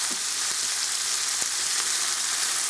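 Onions fry in a pan for Mexican shredded beef while being stirred, making a constant loud sizzle with a few faint scrapes of a utensil, close by and without speech.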